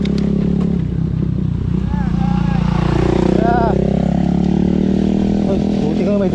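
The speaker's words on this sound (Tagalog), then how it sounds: "Buti ka may dumadaang motor ah." A motorcycle passes along a road during a group ride to Minalungao, its engine rising and falling in pitch as it goes by, mixed with other engine noise under nearby talking.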